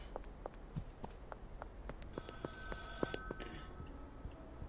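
Payphone ringing in the game Schedule 1, a repeated electronic bell trill at moderate level over footsteps and light background clatter, no talk.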